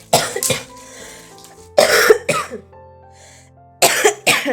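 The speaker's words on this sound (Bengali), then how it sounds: "সরি গো, প্রচুর কাশি হয়ে গেছে।" A person coughs in three separate close, loud bursts of two or three harsh hacks each, with quiet pauses between them indoors.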